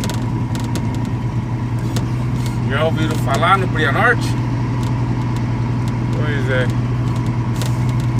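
A truck engine in a truck-driving video game drones steadily at a constant low pitch while someone speaks briefly over it in Portuguese.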